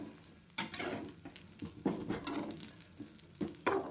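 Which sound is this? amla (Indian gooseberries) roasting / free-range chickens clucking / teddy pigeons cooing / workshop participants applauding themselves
amla (Indian gooseberries) roasting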